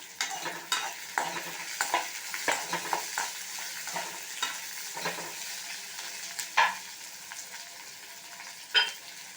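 Chopped onion sautéing in a pan for a Kerala-style chayote chutney: a soft steady sizzle broken by frequent close stirring scrapes and a few sharper knocks of the spoon.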